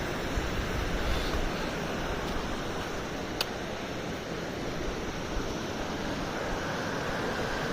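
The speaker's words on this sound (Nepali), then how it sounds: "यताबाट आउने रहेछ यताको पहाडबाट पानी" Water flows down from the mountain near Dudh Kunda on the Tsho Rolpa trek in Nepal, a steady broad rushing roar that stays constant and fairly distant, blending with wind.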